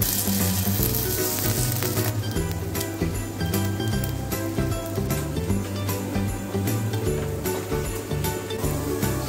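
Potato hash brown batter fries in a hot pan with a loud, steady, dense sizzle that crackles continuously throughout, close and unbroken.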